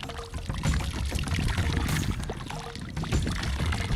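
River water flows and splashes along a riverbank, a continuous gurgling rush with brief pouring surges, close and fairly loud, with no voices.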